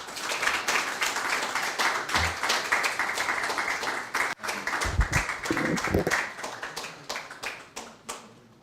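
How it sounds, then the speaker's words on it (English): A forum audience applauds to welcome a speaker in a hall, with a dense, steady round of many hands clapping that tapers off near the end, while a few voices murmur underneath. "with a resounding round of applause, please help me welcome Dr."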